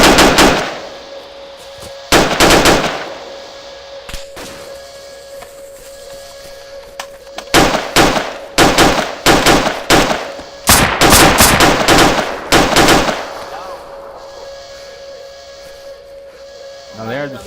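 Video game shootout with rapid bursts of automatic gunfire and single shots in irregular clusters, loud and close, separated by short quieter gaps over a steady background tone.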